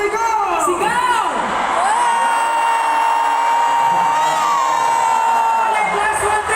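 Crowd at a fan event shouting and cheering together, a loud sustained roar of voices with high whoops and a long held shout.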